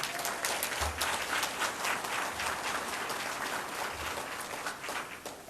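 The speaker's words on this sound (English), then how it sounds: "Let's give them applause" A crowd at an NAACP rally claps steadily, a close, continuous burst of applause that holds at an even level throughout with a few low thumps underneath.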